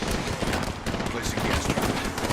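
Dense automatic gunfire in a video game battle crackles in fast, continuous bursts, loud and close, with voices faintly underneath.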